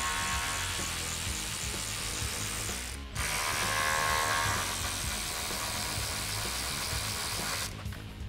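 A ratchet loosening the two 8mm bolts on a 2005-2010 Mustang GT coolant reservoir: steady, dense clicking that continues almost without pause, broken by two brief gaps, heard up close and alone.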